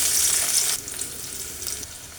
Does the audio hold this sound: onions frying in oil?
yes